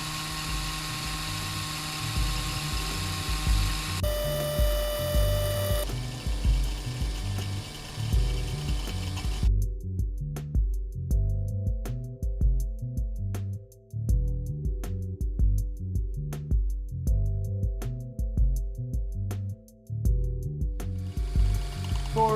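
A drill whirs steadily as it spins wire for fused clapton coils, a continuous motorized hum that shifts pitch a few times and dips briefly, running close with no talk.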